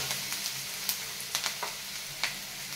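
Onion frying in oil in a pan, a soft steady sizzle and crackle with small sharp pops and spatters scattered throughout, fairly quiet and close with no talking.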